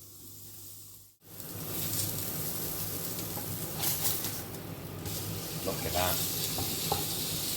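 Kidney, heart and liver sear in a little beef tallow in a hot pan, a dense, steady sizzle that starts abruptly after a brief hush and holds loud throughout, with a short spoken remark over it.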